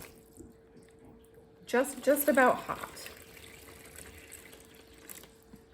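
Warm water poured into a small tub, a short splashing burst of about a second under a voice, then quiet room tone.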